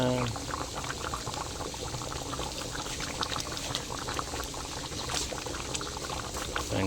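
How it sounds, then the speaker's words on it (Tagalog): Asado broth bubbles and burbles steadily in a pot as it thickens, a close, continuous boiling with small pops throughout. "kumukulo na"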